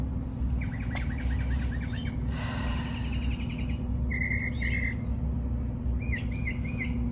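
Garden birds chirp and tweet in short, bright phrases at moderate distance, some trilled and some repeated notes, over a constant low hum of background noise.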